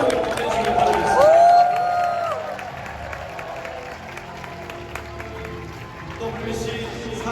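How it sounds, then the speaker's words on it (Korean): Stadium crowd applauding and cheering for pitcher Oh Seung-hwan at his retirement and jersey-number ceremony, a broad wash of clapping that swells early then settles into a steady distant roar, with a voice over the PA at the start. "여러분, 오승환 선수의 앞길에 큰 박수를 해주시기 바라겠습니다."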